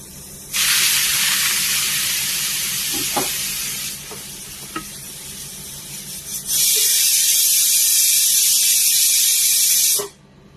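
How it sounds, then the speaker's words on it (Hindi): Water splashed onto an overheated tawa griddle with the flame off, loud broad steam hisses erupting in two long bursts with a few small pops and clinks between, no talking. "अरे बातों में हमारा तवा ज्यादा गर्म हो गया, क्योंकि अभी पानी डाल के थोड़ा ठंडा कर लेते हैं"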